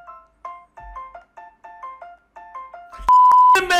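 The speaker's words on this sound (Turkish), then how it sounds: "Bu gerizekalı bildirim bile beni artık..." A phone notification ringtone plays as a repeating chirpy melodic pattern of short tonal notes, loud and alone, ending in a sustained tone and a burst of noisier sound.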